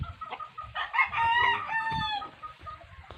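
A rooster crows loudly nearby, a long rising and falling call, surrounded by scattered clucks and rustling from other chickens.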